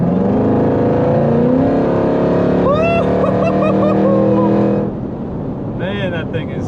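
A 1000hp Jeep Trackhawk roars hard while driving, a loud, sustained engine drone with a rising whine. A voice talks over it before the engine noise drops off near the end.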